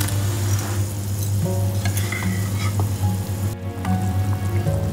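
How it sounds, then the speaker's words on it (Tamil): Anchovies go into a boiling fish curry in a cooking pot, with a steady close bubbling sizzle and a few soft clinks of utensils. "எடுத்து வச்சுருக்க மீனை வந்து இப்போ சேர்த்துக்கலாம்"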